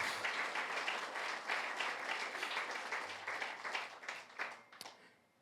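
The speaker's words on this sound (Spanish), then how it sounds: "Dale un aplauso a Dios." A church congregation applauds during a sermon, a dense wash of many hands clapping that swells then thins out over about five seconds, fading into a few scattered claps.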